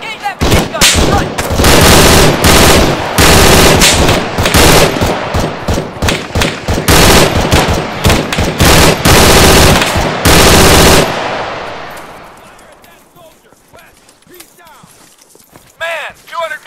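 Sustained machine gun fire in the Arma 3 military shooter, loud dense bursts for about eleven seconds before fading to scattered distant shots, with voices shouting over the combat.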